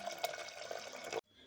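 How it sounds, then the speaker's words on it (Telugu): Water pours from a tap onto washed dal in a pot for a thummikura dal recipe, a brief close splashing stream that stops abruptly. "వాటర్ పోస్తున్నా"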